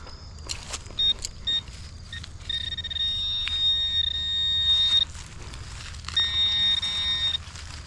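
A Nokta Legend metal detector's electronic tone sounds in broken, choppy bursts, then holds as longer steady beeps, over low rumbling background noise.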